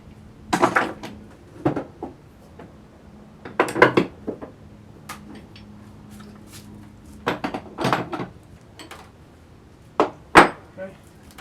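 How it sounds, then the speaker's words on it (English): Bar clamps being fitted on a wooden Roman bench, heard as scattered sharp knocks, clanks and rattles of metal clamp parts against wood, in irregular clusters close by. "Now for the top bar clamps."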